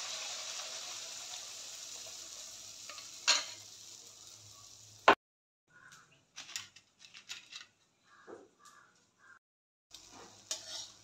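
Pitha made with ripe jackfruit frying in hot oil, a steady bright sizzle that cuts off abruptly partway through, followed by scattered clinks and small handling sounds with brief sizzle returning near the end.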